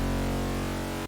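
Raw Harmor bass synth with three unison voices, phase turned fully up and pitch lowered, holding one thick, steady buzzing tone at full level for about a second before it cuts off abruptly.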